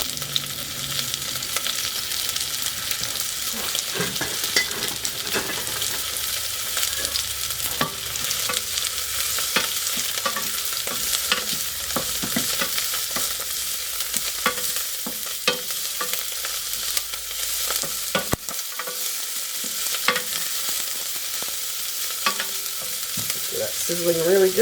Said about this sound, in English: That's sizzling really good.